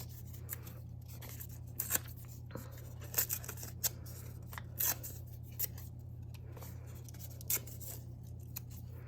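Brown paper bags are being torn by hand into leaf shapes, with short scattered crisp tearing and crinkling bursts over a steady low hum. Faint and close, with no speech.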